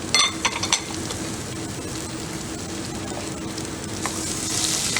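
Garlic and ginger sizzle in sesame oil in a pot, a steady close hiss of frying with a few sharper crackles at the start and a slight swell toward the end.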